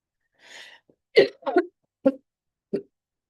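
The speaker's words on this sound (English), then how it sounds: "Apologize for my coughing." A few short, harsh coughs in a row, spaced unevenly, fairly close and moderately loud, with a brief breathy sound before them.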